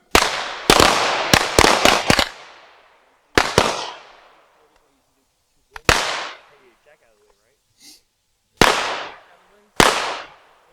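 Handgun shots at an outdoor shooting range during a women's handgun class, loud sharp cracks in quick clusters and pairs with ringing decays and pauses between volleys.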